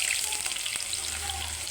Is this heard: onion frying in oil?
yes